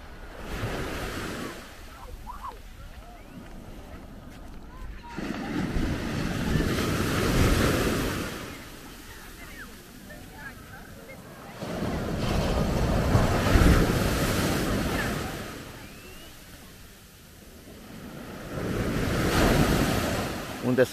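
Sea waves roll in and break on a beach at Mangalia on the Romanian Black Sea coast, piles of seaweed along the shore, with surges swelling and fading every few seconds under steady wind noise, no talking.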